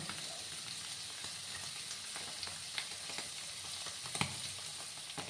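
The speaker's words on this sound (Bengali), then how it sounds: "একটু লাল করে কিন্তু পনিরগুলোকে ভেজে নিতে হবে।" Paneer cubes frying in oil in a pan, a steady close sizzle with occasional crackles and pops, no voices.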